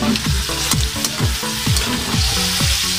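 Menudo stew sizzles and bubbles in a hot pan as water is added, a loud close hiss with repeated stirring scrapes and clatters at a steady rhythm, no talking.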